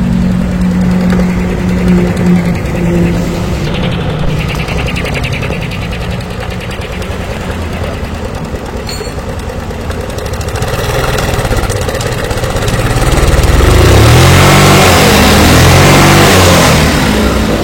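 Carbureted Yamaha Mio scooter running rough with a loss of power, its engine droning near and loud as the throttle is opened with the carburetor vacuum lifted, swelling to a higher rev toward the end.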